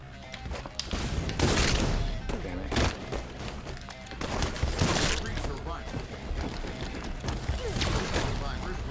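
Gunfire in a Halo 5 Infection multiplayer match, bursts of shots, thuds and mechanical clatter crowding together at a busy pace, with players' voices talking over the action.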